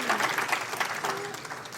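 Audience applause from a Maine Climate Council afternoon meeting session, a brief dense patter of clapping with a voice speaking over it.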